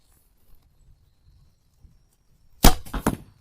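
A single arrow loosed from an archery bow during target practice: a sharp, loud release snap followed by a quick rattling thud near 3 seconds, after near-silence.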